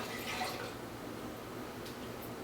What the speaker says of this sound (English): And then pour the water.